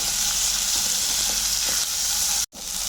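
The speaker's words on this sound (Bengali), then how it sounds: "পনির মশলা আমি দিলাম এক চামচ আবার আমি দু মিনিট ভালো করে কষিয়ে নেব" Paneer masala spice sautéing in hot oil in a pan for palak paneer, a steady bright sizzle with light stirring scrapes, continuous and close, cutting out abruptly near the end.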